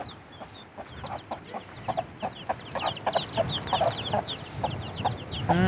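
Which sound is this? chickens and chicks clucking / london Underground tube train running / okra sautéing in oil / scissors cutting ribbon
chickens and chicks clucking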